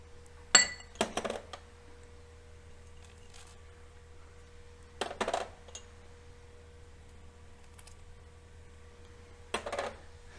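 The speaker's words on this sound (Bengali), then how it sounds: "সব বাদামগুলো দিয়ে দিচ্ছি" Fried nuts and dried fruits tipped into a pot while making Hyderabadi sheer khurma, giving three separate bursts of clinks and clatter against metal, quiet and spaced seconds apart over a faint hum.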